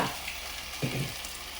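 Garlic, ginger, green chili and coriander paste frying with cooked tomatoes in a pan, a steady close sizzle with a brief stirring scrape partway through.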